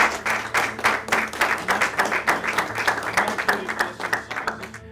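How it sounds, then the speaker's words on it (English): A crowd applauds for a Maryland football legend, Charlie Wysocki, with dense, close clapping in a quick steady rhythm that carries on for several seconds over a low room hum. "can we give Charlie a big hand"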